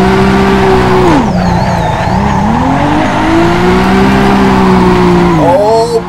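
A 460 hp Nissan S15 race car in Assetto Corsa at Ridge Motorsport Park drones loudly, held high in third gear, with the pitch falling, rising and holding and brief tire squeal in between.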